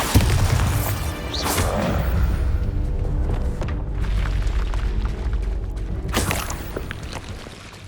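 Heavy Bombarda blasting spell explosions in Hogwarts Legacy, loud booming bursts with whooshing debris, one near the start and another around the end, over a continuous rumbling low background.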